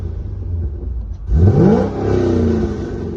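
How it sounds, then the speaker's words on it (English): A C6 Corvette with a cat-back exhaust and catless headers idles low, then gets a sharp rev that climbs and falls back, followed by a second sustained rev, loud and close with no talking. "Give you guys a couple revs."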